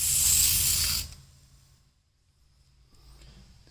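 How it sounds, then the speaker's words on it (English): A can of lubricant sprays in one loud, close hiss of about a second during a Jeep TJ rock slider installation, then cuts off to quiet. "Lubricant."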